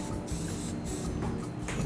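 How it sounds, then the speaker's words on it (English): Non-stick cooking spray hisses into casserole dishes for bread pudding, a steady close aerosol spray with brief pulses and a faint clatter, no voices. "What I'm going to do is spray them with some non-stick spray."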